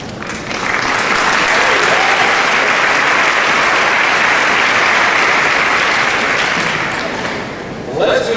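Sustained loud audience applause at the 2014 Thomas A. Simone Award ceremony, a steady dense wash of clapping for about seven seconds that eases off near the end.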